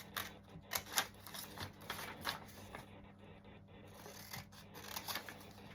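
Scissors cutting around fabric pattern pieces for a tailor's ham made from scrap fabric, a quiet run of crisp snips and crunching blade closures in irregular bursts, close by.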